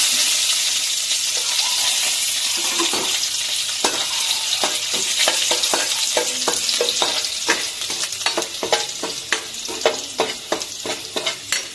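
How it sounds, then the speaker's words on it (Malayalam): Garlic sizzling and frying in hot oil in a pan, a steady bright crackle with sharp spitting pops growing more frequent, no voices. "എണ്ണ ചൂടായിട്ടുണ്ട്, നമുക്ക് അതിലേക്ക് വെളുത്തുള്ളി ആദ്യമേ ഇടാം."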